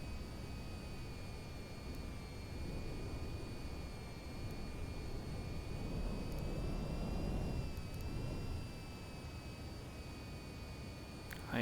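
A fighter jet engine in the VTOL VR flight sim roars steadily, swelling louder toward the middle as throttle rises, then easing slightly, with a thin high whine running throughout.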